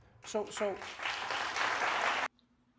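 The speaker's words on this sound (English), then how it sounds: "And the fucking crowd applauds" Stand-up comedy audience applauding, a broad wash of clapping swelling after a brief spoken moment and then cutting off abruptly.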